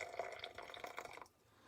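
Water poured into an AeroPress fitted with a closed drip-stop valve, a soft, close trickle and splash lasting about a second before it stops abruptly, faint overall with no talking.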